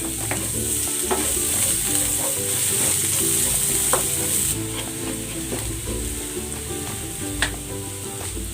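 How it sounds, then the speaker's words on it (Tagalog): Garlic and ginger sauté in hot oil with a loud, close sizzle and frequent stirring scrapes of a spatula against the pan; the hiss softens slightly midway. "Igigisa ko na tong bawang. Sabay ko na tong luya."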